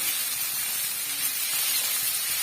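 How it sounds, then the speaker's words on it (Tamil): Pasta is tossed and mixed in a pan over a high flame, giving a steady close hiss of sizzling with a faint scraping texture and no voices. "ஹை ஃப்ளேமில் வச்சு நீங்கள் வந்து நல்லா மிக்ஸ் பண்ணிவிடுங்க"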